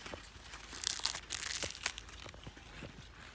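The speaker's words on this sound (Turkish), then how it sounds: "Bir tanesinin somağını açalım bakalım arkadaşlar." A silage corn cob's dry husk is peeled open by hand in a field, giving several close, quiet crinkling and tearing rustles in quick bursts.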